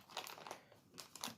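Plastic bag from an old plastic model kit handled up close, with a few soft crinkles and rustles in two short clusters, quiet and without speech.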